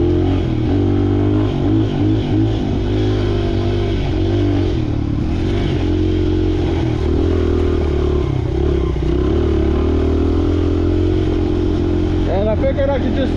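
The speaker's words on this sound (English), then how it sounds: "his choke's got to be stuck on because she is bogging out bad whenever I try and give her gas" A motorcycle engine with its choke stuck on runs loud and close, a rough, sputtering drone that falters and bogs when throttle is given, with clattering over it and someone talking throughout.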